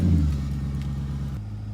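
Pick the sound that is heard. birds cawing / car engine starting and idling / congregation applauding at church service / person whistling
car engine starting and idling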